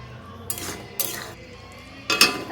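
A spoon stirs aloo dum with ghee in a metal pan, giving three sharp metallic clinks and scrapes against the pan, close up over quiet background with no talking.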